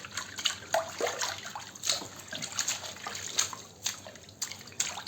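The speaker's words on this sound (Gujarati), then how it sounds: "બસ આ ફટાફટ ધાણા ધોઈ લઉં" Coriander leaves washed by hand in water give a continuous splashing and trickling with small sloshes and drips, fairly quiet and close, with no talking.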